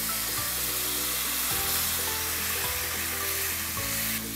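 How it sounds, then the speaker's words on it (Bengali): Water poured onto powdered spices frying in oil for a jackfruit curry, bursting into a loud, dense, continuous sizzle under a repeating background melody. "গুঁড়া মশলা 20 সেকেন্ড ভাজা হয়ে গেলে দিয়ে দিচ্ছি পানি।"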